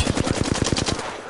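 Rapid automatic gunfire in a shooter video game, a close burst of about a dozen evenly spaced shots in just over a second, loud and alone.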